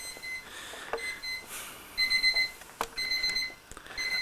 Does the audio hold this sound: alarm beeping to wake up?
yes